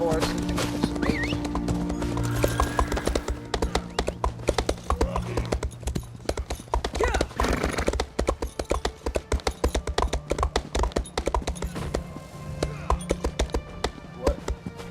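Horse hooves clip-clopping in a steady trotting rhythm, with a horse neighing, in the video game Elder Scrolls Online on Khenarthi's Roost. Loud and close throughout, with game music and voices underneath.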